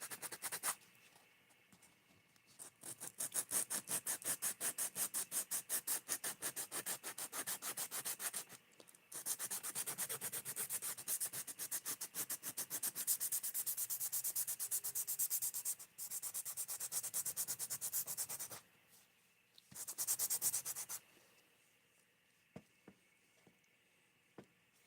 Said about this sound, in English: Alright, so now I'm going to do a little sanding.